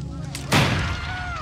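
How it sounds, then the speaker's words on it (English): A single sharp gunshot blast in a dramatized historical reenactment of a colonial landing, loud and close, ringing out briefly over a low background. "Another shot wounded the older man."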